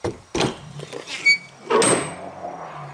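A snowmobile trailer's side door slides and clunks open nearby, with a couple of sharp knocks and a rattling latch, followed by a fading hollow rumble.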